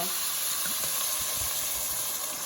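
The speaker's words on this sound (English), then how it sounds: "And what I'm gonna do now is I'm gonna add some wine to deglaze." Wine poured into a hot pan of browned sausage for risotto gives a steady, loud sizzle and hiss of steam, continuous and close, with faint low bubbling underneath.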